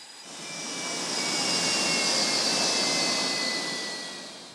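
A U.S. Navy F-18 Super Hornet jet roars past at an aircraft carrier, a loud broad jet rumble and whine that swells, holds, then slowly fades.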